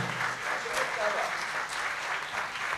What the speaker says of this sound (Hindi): बस जोरदार ताली हो जाए मुंतज़िर सर के लिए